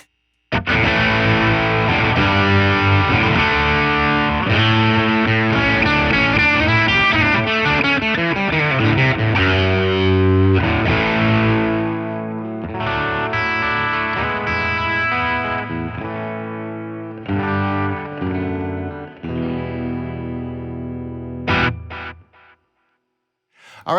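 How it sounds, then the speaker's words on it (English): An electric guitar runs through a Fender Tone Master Twin Reverb amp with delay and some distortion, playing a long, loud phrase of chords and melody lines whose repeats trail behind, ending in a brief fade. "Add in some delay."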